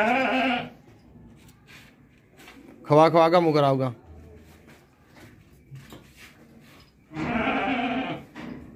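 A healthy ewe and her one-day-old newborn lamb bleat in loud, separate bursts outdoors on a farm, with someone speaking Hindi between the calls.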